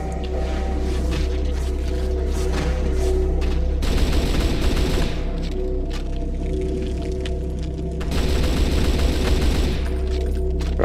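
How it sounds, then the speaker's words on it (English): Gunfire in Brutal DOOM, loud and dense bursts of shots crashing over a low droning game background, with heavy volleys returning in waves. "bullets everywhere"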